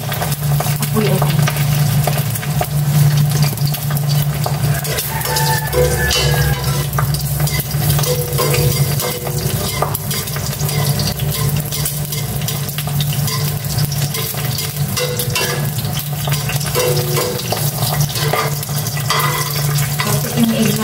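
Continuous sizzling of food frying in a hot pan, a dense crackling hiss that holds steady throughout, with occasional faint stirring clatter.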